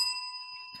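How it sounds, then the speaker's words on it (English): A hand bell gives a single bright ring with a steady sustained tone that lingers briefly, heard alone indoors. "ringing the bell for you, my friend"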